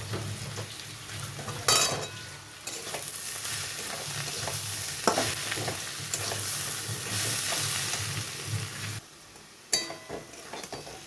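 Onions frying in a pan with salt and turmeric give a continuous sizzle, broken by repeated stirring scrapes and clinks of a utensil against the pan, with louder knocks near the start and end.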